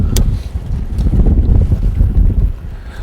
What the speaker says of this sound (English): There comes the wind again.